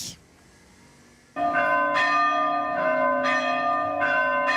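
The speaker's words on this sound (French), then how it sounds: "L'Angélus se met à sonner dans le clocher de Saint-Pierre" After a brief quiet start, the bells in the Saint-Pierre church tower in Marseille begin ringing the noon Angelus, resonant tolls repeating every second or so and sustaining over one another.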